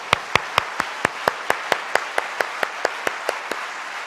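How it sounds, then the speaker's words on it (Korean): An audience at a church prayer service claps for children in steady, evenly spaced unison beats, about seventeen crisp claps over four seconds, with no voices over them. "이 아이들을 다시 한번 박수로 축복해 주십시오"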